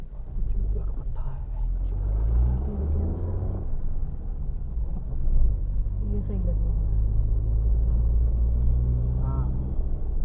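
A car engine idles with a low, steady rumble while the car is being parked on a mountain road near Chopta, with people talking over it throughout.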